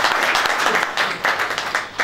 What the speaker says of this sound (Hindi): तो ये फरद भाई के लिए भी तालियां होनी चाहिए।